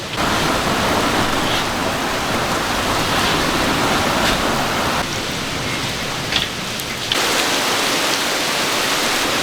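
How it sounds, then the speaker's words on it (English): Steady, dense hiss of rain falling outside a small off-grid cabin under construction, loud and continuous with a brief dip in intensity midway, and no voices. "Raining."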